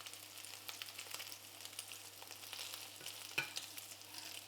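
Steady quiet sizzling and crackling of food frying in a pan, with small pops scattered throughout and one slightly louder crackle near the end.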